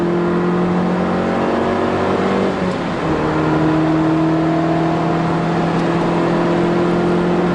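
A car on a wet, cold road on summer tires accelerates hard with a steady engine drone; the pitch jumps partway through as the wheels lose traction and the revs flare, then it keeps pulling on.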